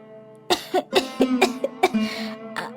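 A child coughing in a smoky room where wood is burning indoors, a run of about eight harsh, close coughs in quick irregular bursts, loud and alone.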